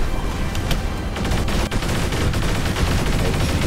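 Dense, rapid gunfire from the video game War Robots crackles nonstop, loud and close, with sharp bursts layered over a constant roar.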